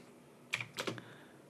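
A few quick keystrokes tap on a computer keyboard as a short command is typed, giving soft close clicks in two small clusters over a quiet background hum.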